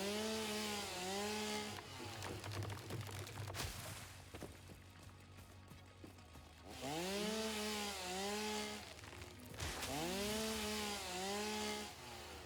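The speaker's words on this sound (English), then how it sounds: "You can chainsaw anything." A chainsaw in the Satisfactory video game revs up and down in three cycles while cutting through plants, loud and close with a whining, buzzing engine tone and a grinding lull between bursts.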